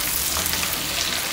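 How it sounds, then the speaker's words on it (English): Close, steady sizzling and stirring as gravy for Jamaican-style corned pork bubbles in a pot, a continuous bright hiss with no pauses and no talk. "So I'm going to stir it all my flavor blending"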